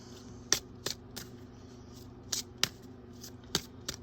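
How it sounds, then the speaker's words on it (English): Soft riffling and dry taps of cards being shuffled close by, a few brisk flicks spaced irregularly over a quiet, low background hum. "So let's give a nice shuffle."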